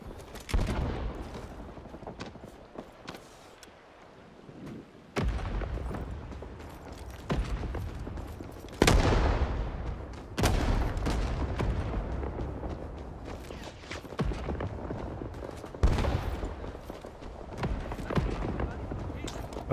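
Battlefield gunfire in Rising Storm 2: Vietnam rattling in bursts, with sharp nearby shots and heavier blasts over a constant backdrop of combat, while a voice talks over parts of it.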